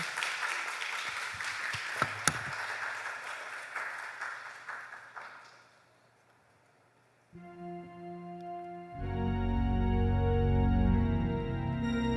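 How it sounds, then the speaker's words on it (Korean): Congregation applause at a Sunday worship service, a dense patter of clapping that fades out over several seconds, followed by quiet and then music starting. "인사할 때 큰 박수 칩시다"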